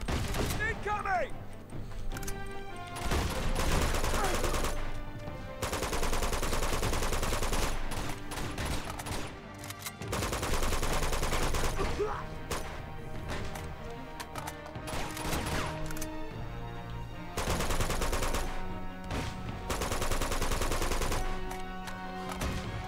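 Gunfire from the video game Uncharted 2: Among Thieves, with loud repeated shots and bursts over a thick layer of game music and effects, running steadily through the scene.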